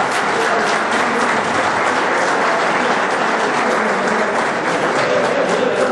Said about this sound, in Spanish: don Edgar Delgado del Carpio, para que tenga un aplauso